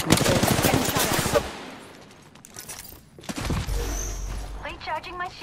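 Rapid gunfire from Apex Legends, a loud burst of shots in the opening second and a half, then quieter scattered game sounds and a short tonal chirp, with another sharp burst near the middle.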